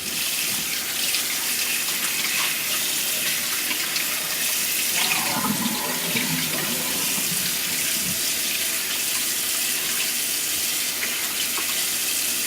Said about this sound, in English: we're going to rinse the turkey off.